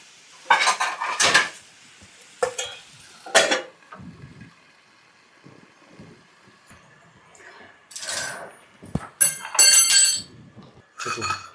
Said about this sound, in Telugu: ఇప్పుడు మనం క్యాప్ పెట్టేసి ఉడికిద్దాం